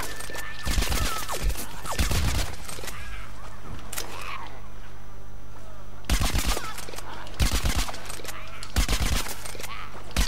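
Gunfire rattles in bursts in the Plants vs Zombies Garden Warfare shooter game as a foot soldier class, with rapid volleys separated by quieter stretches of game sound.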